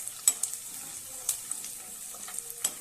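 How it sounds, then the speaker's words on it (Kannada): Avalakki chooda, a North Karnataka flattened rice snack, fries in a pan with a low constant sizzle punctuated by several crisp scraping and tapping strokes of a spoon. "ನೋಡಿ ಚೆನ್ನಾಗಿ ಫ್ರೈ ಮಾಡ್ಕೋಬೇಕು"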